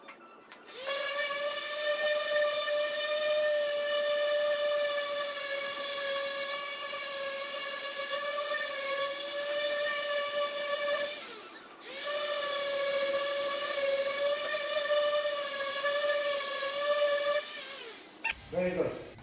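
Electric sander running steadily on an aluminum camper body during restoration, a loud sustained high-pitched whine with a brief dip near the middle before resuming and stopping at the end.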